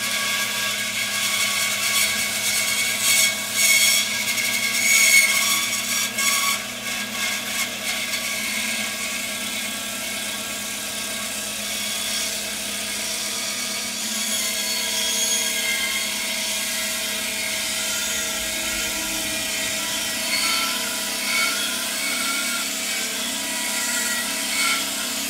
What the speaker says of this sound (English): we are going to go ahead and fire up the new bandsaw and see if she's worth her weight